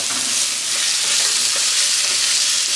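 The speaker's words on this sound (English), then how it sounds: "To the garlic, we're gonna add our 1 onion and we're gonna saute that a little bit." One chopped onion sautés with garlic in a hot pan, giving a steady, close, bright sizzle with faint stirring scrapes and no talking.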